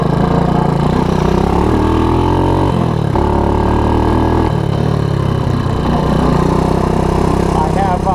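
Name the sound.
Honda ATC185S three-wheeler engine running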